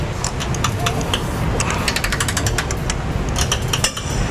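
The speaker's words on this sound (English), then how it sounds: "Get my socket into place. And begin to tighten." Socket wrench ratcheting and clicking as a trailer hitch bolt is tightened on a Ford E-series van, with rapid repeated metallic clicks in a steady burst close to the mic and a voice faintly underneath.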